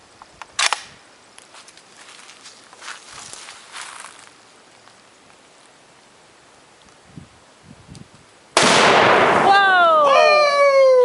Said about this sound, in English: we got a Mossberg 308 and what's that, a 1/4 pound of Tannerite or whatever